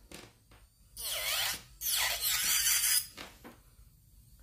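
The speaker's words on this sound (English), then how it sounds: "I have, like, a love and hate relationship with this electric file because it kind of stops" An electric nail file with a coarse bit grinds off a bling nail design, whirring in two close, high-pitched bursts that rise and fall in pitch, with quiet gaps around them and no talking.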